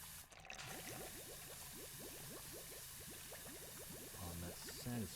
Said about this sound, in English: On that satisfying bubbling sound.